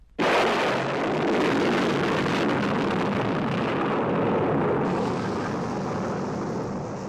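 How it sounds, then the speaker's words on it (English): A rocket launch sound effect: a sudden loud blast erupts and settles into a sustained, dense roaring rumble that holds steady for several seconds, with no talking. "The couple watched the tiny rocket as it sped aloft, up into space, beyond their doomed planet."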